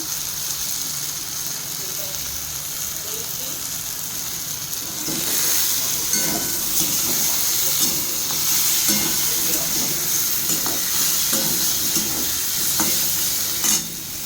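Potatoes fry with turmeric and salt in a pan for vegetarian aloo dum, a steady close sizzle that thickens midway as a spoon stirs, adding repeated scraping knocks against the pan.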